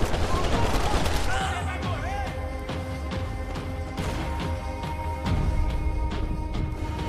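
Sustained gunfire in the video game Max Payne 3, dense rapid shots and crashing impacts running continuously and loud throughout, with layered game effects and no clear talk.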